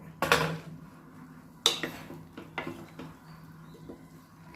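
A metal pressure cooker holding potato and green pea gravy is handled as its lid is opened after the steam is released, giving a few sharp metallic clanks and scrapes followed by softer knocks in a quiet kitchen.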